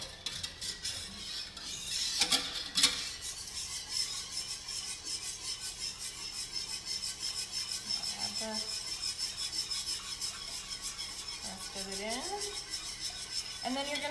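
Steady scraping and rubbing of a whisk stirring gravy in a pan over the heat, a continuous close rasp running throughout with a few metallic clinks and brief squeaks.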